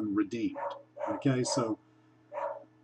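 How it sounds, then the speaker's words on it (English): A dog barks and yips in the background, several short bursts mixed in with and partly masked by a nearby person talking throughout. "Since my dog is currently barking"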